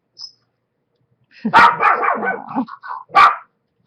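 Indoor dogs bark close and loud, a rough run of barks and yips followed by one more sharp bark after a short pause.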